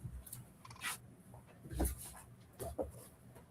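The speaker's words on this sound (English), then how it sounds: "He's over there starting to bark." Dior the dog starts making short, faint yips and whimpery huffs, a few scattered soft bursts in a quiet room with no one talking.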